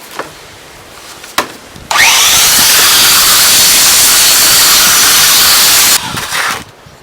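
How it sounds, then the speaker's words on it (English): A Makita belt sander works a wooden sign, starting abruptly with a loud, steady broadband roar that holds for about four seconds before cutting off, with a few small knocks before and after. "I'm going to hook up that Makita belt sander, and let's sand this down and let's see what it looks like"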